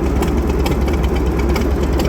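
A McCormick Deering 10-20 tractor engine runs steadily, a loud, close, continuous low rumble with no break and no talking.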